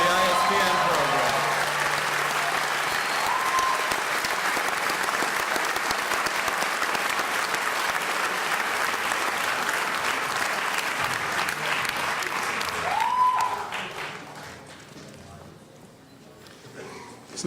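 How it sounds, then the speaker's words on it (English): Sustained applause from the audience at the 2009 Heinz College diploma and awards ceremony for graduates, steady clapping through most of the stretch that thins out and fades near the end. "please join me in another round of applause for the MISM and MSISPN graduates"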